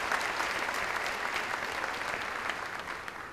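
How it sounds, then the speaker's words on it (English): An audience gives a round of applause at a university gathering, a soft, even spread of many hands clapping that carries on steadily and tapers slightly at the end. "Let's give him a round of applause"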